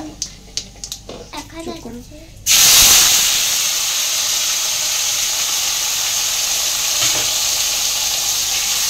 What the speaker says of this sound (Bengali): ফোড়নটা আমি হালকা করে ভেজে নিচ্ছি।